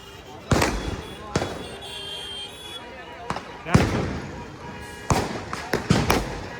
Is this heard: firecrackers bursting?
yes